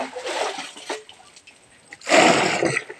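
Water scooped with a tambayok for mixing cement, two splashing, gurgling surges of water sloshing in a container separated by a quieter pause, close by, with no speech.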